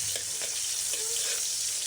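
Ingredients sizzle and crackle in a hot frying pan before dried fish (tuyo) goes in, a continuous dense hiss with a few soft stirring scrapes, close and alone.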